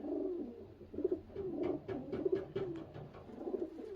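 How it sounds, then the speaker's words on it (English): Young racing pigeons in a loft give a steady run of soft, low cooing, rhythmic pulsing coos repeating close by, with no talk. "That's a Johnny Panis pigeon."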